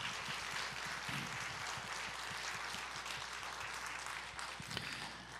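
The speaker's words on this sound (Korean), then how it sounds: "우리 주일학교를 위해서 응원의 박수를 먼저 한번 좀 보내드리죠." Congregation applauding for the Sunday school during a church service: steady, fairly quiet clapping from many hands that holds evenly throughout, with no talking over it.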